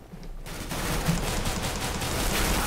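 Rapid pistol fire from a CS:GO gun game match, a dense, continuous run of sharp shots over nearly three seconds, loud and close.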